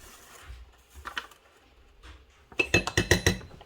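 A metal spoon clinks against glass jars while allulose sweetener is measured out, a quick run of bright, close clinks and taps near the end after a few softer knocks.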